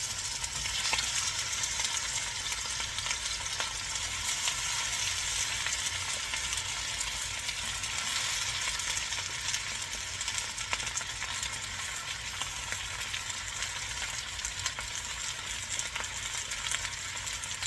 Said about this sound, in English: Turn around here and you're going to hear it sizzle, I'm telling you.